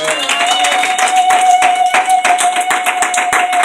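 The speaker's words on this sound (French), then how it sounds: "Est-ce qu'on peut acclamer très fort pour le Seigneur?" A church congregation claps loudly and fast for the Lord, close and dense, a steady run of sharp hand claps with a sustained tone ringing underneath.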